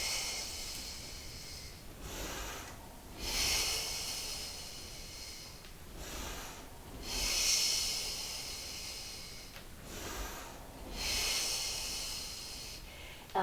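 During a Pilates reformer exercise, a person breathes out in several long, forceful hissing exhales spaced a few seconds apart, each with quieter breaths between them, close up and with no talking.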